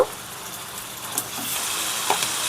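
Garlic, ginger, cumin and chilli pastes hitting hot oil with onion and tomato, a soft continuous sizzle and hiss with faint stirring clicks, no talking.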